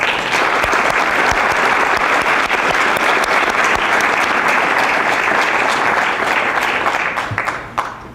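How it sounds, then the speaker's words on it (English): A graduation audience applauds EMS Academy graduates and staff at the Spring 2015 ceremony. The loud, continuous clapping holds steady, then thins and fades near the end. "Please give them all a round of applause."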